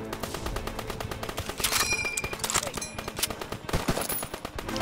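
Machine gun fire in Call of Duty WWII, on a D-Day mission, clatters in rapid sustained bursts, loud and close, with distant shots and battlefield noise mixed in.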